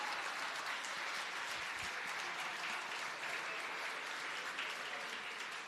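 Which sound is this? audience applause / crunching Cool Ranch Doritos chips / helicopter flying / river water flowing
audience applause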